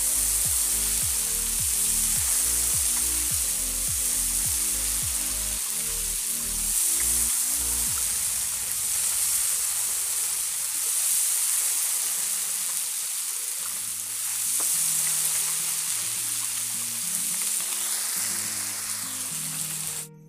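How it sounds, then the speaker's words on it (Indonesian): Fifteen to twenty spinach leaves deep-fry in hot oil for crispy spinach chips, a continuous loud sizzle that runs the whole time under background music. "Kurang lebih kita goreng 15 sampai dengan 20 lembar daun bayam ya Bunda."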